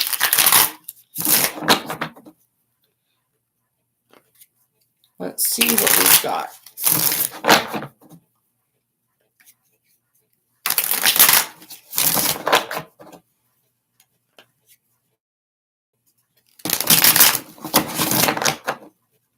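Tarot cards being shuffled by hand in several bursts of rapid riffling and flapping, separated by quiet pauses, with a voice speaking briefly in between.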